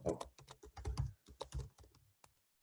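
Keyboard typing for a baking business planner app, as an ingredient name like almond flour is entered: a quick run of close, crisp key taps in uneven bursts, trailing off into sparse final clicks, with no talk.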